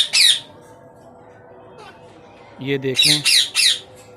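Pet birds squawk in a cage, one sharp burst at the start and then a loud cluster of repeated squawks near the end, close by, with a brief spoken phrase in between.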